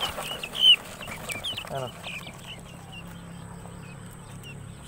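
Two-week-old guinea fowl keets cheep in a thin, scattered chorus of high chirps, with a brief louder burst near the start and a voice speaking briefly.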